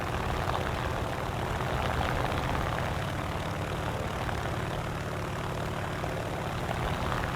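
A propeller plane in War Thunder, roughly ten years old and dating from 1934, drones steadily and loudly in flight, a constant unbroken engine roar throughout.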